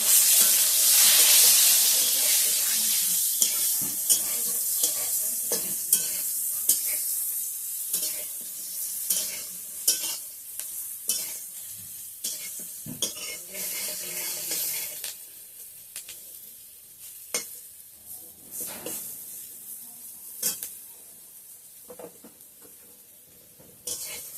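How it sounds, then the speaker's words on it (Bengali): Long strips of eggplant fry in oil with salt and turmeric, a bright hissing sizzle that starts strong and settles, punctuated by repeated stirring scrapes and clinks close by. "বেগুনের মধ্যে হালকা লবণ আর হালকা হলুদ দিয়ে ভেজে নেব"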